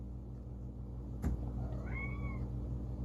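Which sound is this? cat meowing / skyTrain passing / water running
cat meowing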